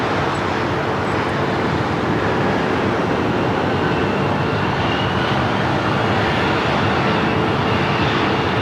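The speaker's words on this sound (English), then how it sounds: "It's flight 40 coming in from Zurich on the 777-300ER." A Boeing 777-300ER airliner arriving from Zurich on approach to land at LAX in challenging weather, a loud steady broadband jet roar that fills the whole stretch without letup.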